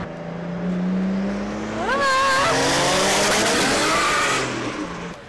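A turbocharged BMW E46 accelerates hard in second gear at a car meet. The engine note climbs loud and close, with sweeping revs and a squealing tire edge.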